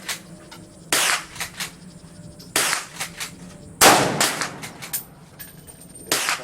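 Semi-automatic gunfire at an outdoor shooting range: six or seven sharp, loud shots fired in quick irregular succession, each with a brief echoing tail.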